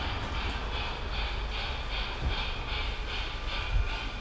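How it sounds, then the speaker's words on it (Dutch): A toy train runs inside a large toy store, giving a steady, faint rhythmic clicking over constant hissy room noise. "Oh, en kijk, een trein."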